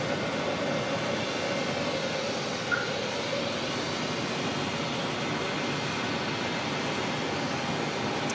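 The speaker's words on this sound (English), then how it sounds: "Good sounds coming off that A321neo." Engines of an Airbus A321neo at Auckland Airport give a steady, broad roar with a constant rumbling hum, unbroken and fairly loud for the whole stretch.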